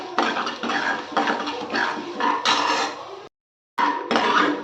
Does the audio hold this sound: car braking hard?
no